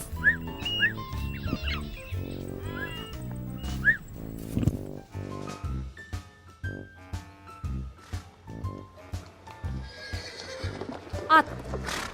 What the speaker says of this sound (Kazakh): Ат.